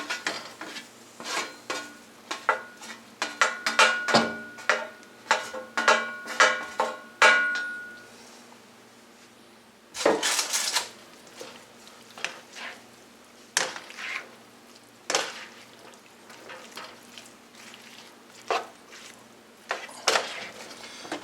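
Roasted potatoes with roughly cut onions tossed and stirred in a kitchen pan: repeated scraping, clattering utensil strikes and soft sizzling, close up, in irregular bursts separated by brief pauses.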